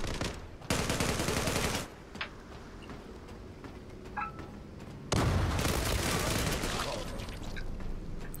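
Bursts of gunfire in the online shooter Zula, loud broadband volleys at the start and again near the end with quieter shots between, mixed with in-game noise.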